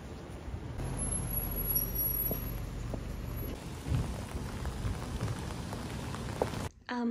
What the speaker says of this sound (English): Okay, I'm gonna get rained on.